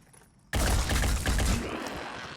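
A sudden loud burst of gunfire erupts in the Phoenix Point video game after a short stretch of near quiet, with rapid overlapping shots and a rumbling tail that fades gradually.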